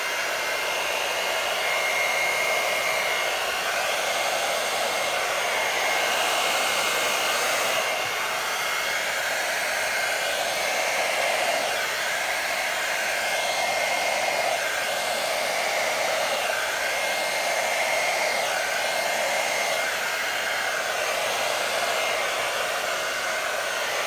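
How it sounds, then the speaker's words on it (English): A hairdryer blows over poured acrylic paint for a bloom pour, giving a close, loud, steady whirring hiss that holds an even pitch throughout with no talking. "I'm blowing it with my hairdryer today."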